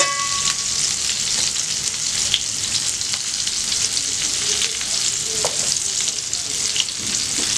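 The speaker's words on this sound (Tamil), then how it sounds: "நல்லா 2 சைடும் கோல்டன் ப்ரௌன் ஆகிற மட்டும் நல்லா ஃப்ரை பண்ணி எடுத்துக்கோங்க." Cauliflower chicken patties frying in a little oil in a pan give a constant close sizzle and crackle throughout, with a few faint utensil clicks and no talking.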